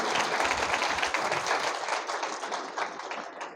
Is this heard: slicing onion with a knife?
no